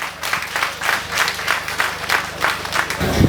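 Loud crowd applause at an outdoor community festival mass with speeches by local authorities in Benin, a dense continuous rattle of many hands with rhythmic swells, ending with a brief louder bump.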